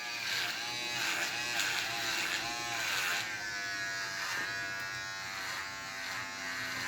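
Electric clippers buzz steadily while shaving a head, going with and against the grain of coarse hair, a close, loud motor whine with rhythmic dips and swells as the blade passes over the scalp.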